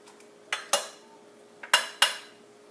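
Metal spoon scraping and clinking against a pot while sauce is layered into a slow cooker lasagna, four sharp clinks in two close pairs, near and clear with no talk.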